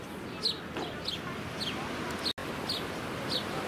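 A flock of sparrows chirps in a town setting in Biarritz, France. Short, bright chirps repeat roughly every half second over a constant background hiss, with no talking.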